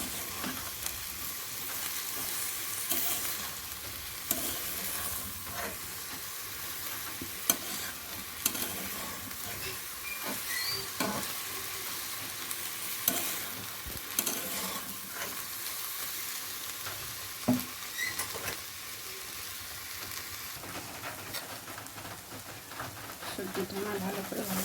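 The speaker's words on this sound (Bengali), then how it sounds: "ভালো করে নেড়ে নেব।" Vegetables fry in a pan for vegetable dal while being stirred: a continuous sizzle with scraping stirs and occasional sharp clinks, fairly close, with some speech now and then.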